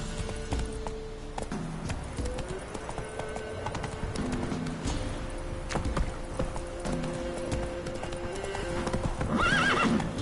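Horse hooves clip-clopping at a steady gallop with repeated neighs and whinnies in a video game, loud and continuous with background music layered underneath.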